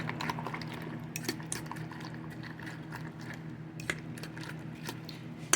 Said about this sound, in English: Gotta mix it up. Mix, mix, mix. Mix it up really good.